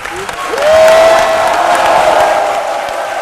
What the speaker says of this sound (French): On se lève pour l'applaudir, pour le féliciter